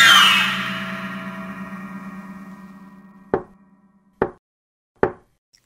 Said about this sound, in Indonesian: Aku mulai mengetuk pintu toilet itu 3 kali.